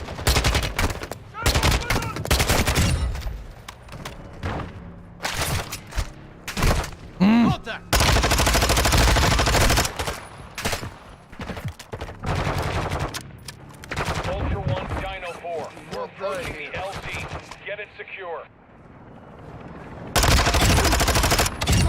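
Rapid automatic gunfire in the shooter Warzone 2 DMZ, loud bursts and sustained volleys alternating with brief pauses, close and harsh, with occasional other game sounds in between.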